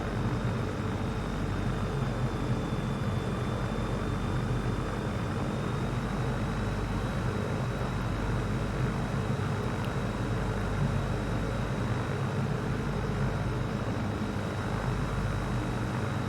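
A Zlin propeller plane's engine drones steadily through a VR flight sim, a constant low hum with a faint high whine above it, unbroken and even in level for the whole stretch.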